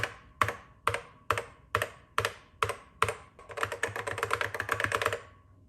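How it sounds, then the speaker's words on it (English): Keys clack on an original 1984 Macintosh keyboard: a few evenly spaced single strikes, then a fast burst of typing, each hit carrying a hollow, ringing echo in a quiet room. "I had heard that these original Mac keyboards can be very echoey, and yes, it is echoey."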